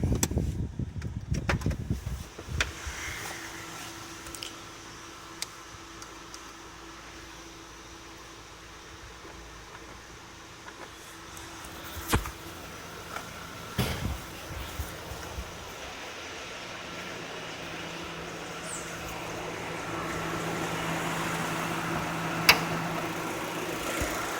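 A Citroen C4 with a 2-liter 16-valve, 151-horsepower engine idles steadily with a low, even hum, punctuated by a few sharp knocks and clunks from handling nearby, with no talking.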